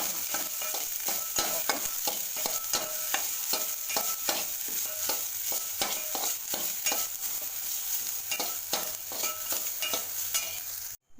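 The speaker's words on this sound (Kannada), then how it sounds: "ಅನ್ನ ಹಾಕೊಂಡು ಅನ್ನ ಬಿಸಿ ಮಾಡ್ಕೊತೀನಿ ಇವಾಗ ಮಸಾಲ ಬೆನೀತಾ ಇದೆ" Rice fries with masala in a pan for fried rice, a continuous soft sizzle under steady rhythmic scraping of a spatula against the pan, close and without talk, ending abruptly.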